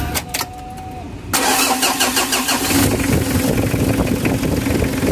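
A Mitsubishi L300 engine cranks and catches, then settles into a loud, steady close-up idle after a brief quieter lead-in, with no talk over it.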